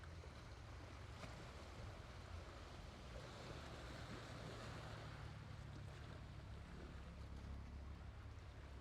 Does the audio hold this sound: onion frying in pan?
no